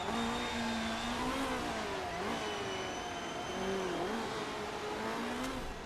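Race car engine on an out lap in the Motorsport Manager racing game, a steady droning whine that rises and dips slightly through gear changes, continuous and fairly even in level with no talking.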